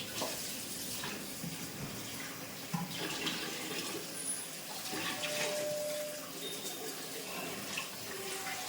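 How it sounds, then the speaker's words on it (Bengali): Water steadily drains and trickles off freshly washed fish in a home kitchen, a continuous moderate splashing wash with no voices. "কিছুক্ষণ জল ঝরানো হয়ে গেলে তারপরে তুলে দেবো এটা"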